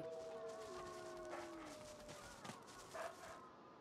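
Wolves howl in the video game Divinity: Original Sin 2, faint gliding wails sliding downward in pitch, with soft overlapping calls and light ambience.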